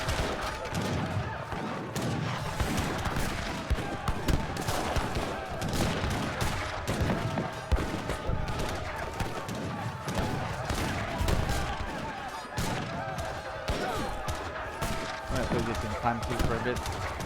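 Dense musket gunfire and booming mortar fire fill an Age of Empires 3 Definitive team battle, with rapid overlapping volleys and thuds throughout and a voice talking underneath.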